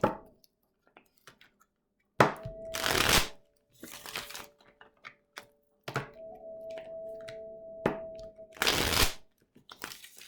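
Several bursts of tarot cards being shuffled, crisp riffling rattles separated by quiet pauses, with a faint steady hum underneath.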